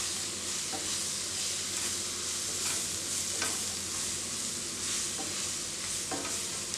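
Chicken tikka masala stirred and frying in a pan, a steady close sizzle with intermittent scraping clicks of the spoon against the pan.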